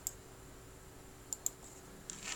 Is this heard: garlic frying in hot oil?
no